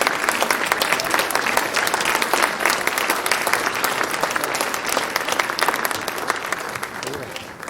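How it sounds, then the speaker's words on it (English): Parents at a school annual day prize ceremony clapping together in a loud, dense, sustained round of applause that holds steady for several seconds, with some voices mixed in. "You can have a loud applause, parents."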